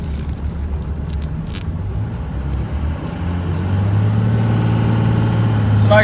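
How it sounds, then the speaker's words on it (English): A Cummins diesel truck engine drones steadily while driving on a test drive, with road and cab noise around it, and the pitch rises and the sound grows louder toward the end as the truck accelerates. "Let's continue on with this test drive."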